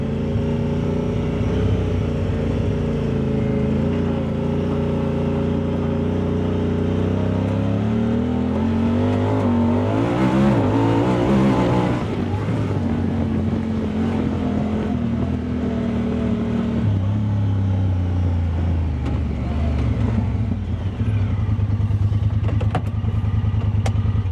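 A Talon car engine, newly tuned, idles and revs, its pitch rising and falling in steady surges, loud and close, with no talking.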